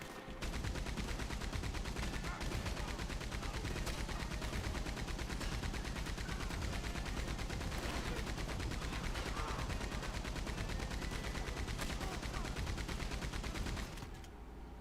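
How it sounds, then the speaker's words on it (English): A mounted turret in Red Dead Online chatters out sustained rapid gunfire, a dense unbroken stream of shots lasting well over ten seconds before cutting off, loud and close throughout. "I'm gonna go on the other turret now that Panther's dead because it has more of a range of fire"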